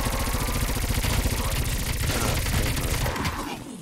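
Rapid automatic gunfire in a zombies video game, a dense continuous burst of shots that fades out near the end, loud and close.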